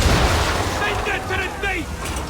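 Naval cannons aboard a sailing warship in Assassin's Creed III fire in a heavy low rumbling barrage, with booming blasts layered under shouted voices and crew noise throughout.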